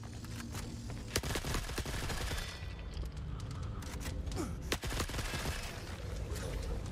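Gunfire in the video game Forever Winter rattles in rapid, closely spaced shots with a few sharper cracks, dense and continuous over a rumbling battlefield background.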